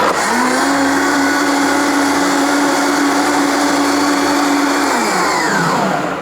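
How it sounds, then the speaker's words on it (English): A blender running on high speed while blending nut milk: a loud, steady motor whir throughout, with a rising pitch that drops off as it winds down near the end. "we're going to place this just right on the blender and turn it on"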